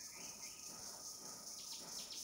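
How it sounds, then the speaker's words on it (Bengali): Steady high-pitched insect trilling of a cricket runs continuously through the whole stretch at low volume, with faint background hiss and no voices. "এটা ঝুঝি পোকার আওয়াজ"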